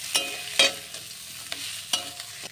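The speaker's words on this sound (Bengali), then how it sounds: "দিয়ে আমি ভালো করে নাড়িয়ে নেব।" Fried peanuts and grated coconut being stirred into sautéed drumstick leaves (sojne shaak) in a pan, with a few distinct scraping spoon strokes over a soft, steady sizzle, close by and without talk.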